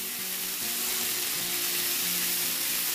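Constant loud sizzling of onions frying in a hot pan, a dense crackling hiss with faint stirring, no voices.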